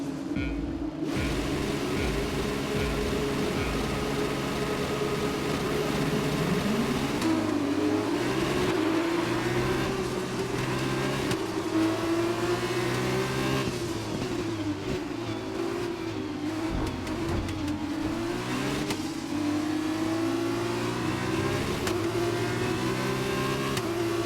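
Racing car engines scream together through a race at a Brazil circuit, a dense, continuous drone of overlapping engine notes rising and falling as the cars accelerate and shift through the corners.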